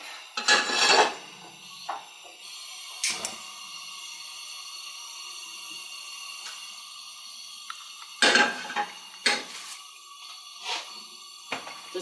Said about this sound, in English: Heating the oil up.